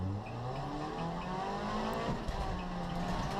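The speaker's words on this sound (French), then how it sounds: "Nous sommes à bord de la voiture de Firmin Cadedu, qui ne manque pas son envol" Onboard a Renault Twingo R1 rallycross car at the race start, its engine droning steadily and loud throughout with rising harmonic tones, tyre and gravel noise beneath and no speech.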